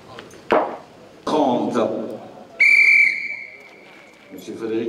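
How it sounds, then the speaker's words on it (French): A referee's whistle at a pétanque jeu provençal doubles championship sounds one sustained shrill blast to halt play, with a couple of thumps and a short second whistle near a low voice. "Monsieur Frédéric Bonnier, arbitre national qui vient de donner le coup de sifflet d'interruption de la compétition."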